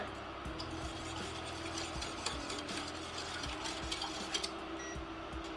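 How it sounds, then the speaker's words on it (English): Organic sugar being whisked into warm garlic dill pickle brine in a pot on an induction cooktop, a steady rapid clicking and scraping rattle of the whisk running throughout at close range, with no talking. "I'm going to whisk that together"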